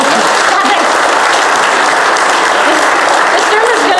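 Loud, dense applause from a church audience at Holy Trinity during a sermon, a continuous wash of many hands clapping that fills the whole stretch.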